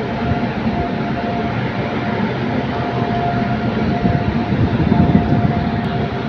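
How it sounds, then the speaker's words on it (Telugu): A steady low rumble comes from the Narsapur Express at a station platform, moderately loud and close, swelling slightly toward the end. "అది కూడా నర్సాపూర్ ఎక్స్ప్రెస్."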